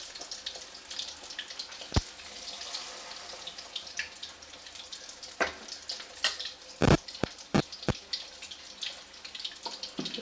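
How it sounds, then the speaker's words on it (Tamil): Browned tempering is poured into a Thirunelveli-style village fish curry (meen kulambu), making a faint crackling bubble dotted with sharp pops and a few louder splashy bursts, heard up close without talk. "இப்போ எடுத்து நம்ம மீன் குழம்புல ஊற்றிடலாம்."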